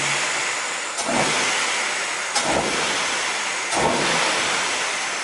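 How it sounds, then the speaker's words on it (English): A cheap Acura Integra engine with worn motor mounts revving, three broad rushing surges about every 1.4 seconds over a steady noisy drone, close and fairly loud with no talk. "I'm going to show you a few revving clips."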